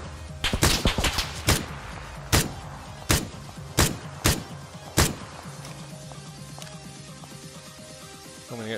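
Gunshots in the video game PUBG: a rapid cluster of sharp shots followed by several single evenly spaced cracks, loud and close, then fading into quieter background game sounds.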